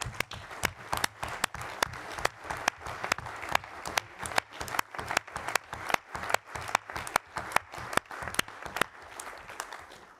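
A small group at an Allonnes municipal council meeting applauds the local mask and gown seamstresses: sparse, uneven hand claps ring out continuously for about ten seconds, close and fairly crisp, with no voices over them.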